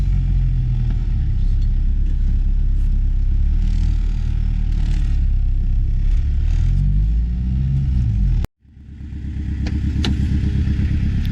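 A Peugeot 306 D Turbo diesel car runs and drives under its own power, a steady loud low engine drone with rattly clatter that cuts out abruptly near the end, then the engine note swells back up.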